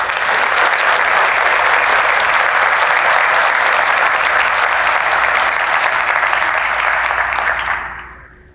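Large audience at a business summit giving a loud, sustained round of applause, dense even clapping that carries for several seconds before quickly fading out.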